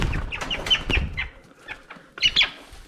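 Chukar partridges released for a hunting outing cluck in short bursts, with several quick calls early and another cluster near the end, fairly close and clear against a quiet outdoor background.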